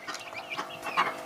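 Clucking from a red hen among a calm, non-aggressive backyard flock, a few soft, close calls in quick succession with no talk.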